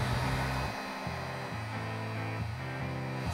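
Heat gun blowing hot air while shaping a fly rod, a steady loud whooshing hum with small pitch shifts in the motor drone, close and uninterrupted with no talking.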